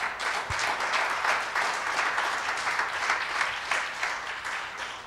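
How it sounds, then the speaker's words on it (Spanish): A church congregation applauds during a sermon, a steady dense wash of many hands clapping at full strength from start to finish, with one low thump near the start and no voices over it. "Denle un aplauso al Señor"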